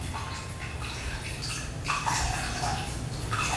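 Water trickles and drips steadily as a soaked towel, used as a home hot-water compress for pain relief, is squeezed out nearby, with a slightly heavier splashing gush toward the end.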